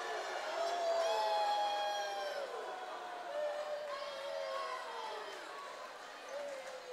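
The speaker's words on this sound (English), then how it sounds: "Everybody is booing the refs right now." A loud crowd in a gym at a boys' sub-state championship basketball game jeers and boos the referees in sustained waves, with a commentator talking throughout close over the noise.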